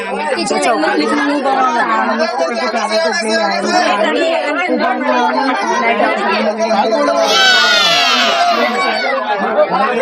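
A dense crowd queues for boat rides, loud overlapping chatter and children's shouts filling the scene continuously and close by, with a brief high-pitched squeal near the end.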